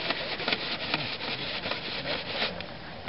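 A scrub brush works over a paint-stained shirt during hand washing without power, giving steady, rhythmic scratchy strokes that are close and fairly loud.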